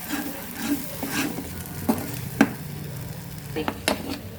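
Egg curry masala sizzling in a pan on a low flame, with scattered stirring clinks and scrapes, a soft steady fry underneath.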